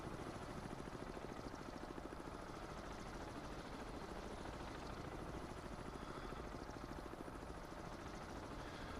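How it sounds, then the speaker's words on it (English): Steady helicopter rotor thump with a dense, continuous engine roar, heard from close by and holding level throughout; it is an anti-submarine helicopter dropping depth charges in the Cold Waters submarine game, with no voices over it. "they're dropping some depth charges from the helicopter on us"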